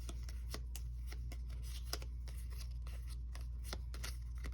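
Board game item card decks shuffled by hand, a quiet, steady riffle of rapid flicks and soft slaps over a low background hum.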